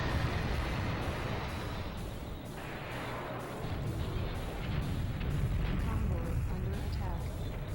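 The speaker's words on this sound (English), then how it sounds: "So now they're shooting from behind." Tanks fire shells from behind in BattleTanx: Global Assault amid mines and obstacles, a dense continuous barrage of booming cannon blasts and explosions with a player talking over it.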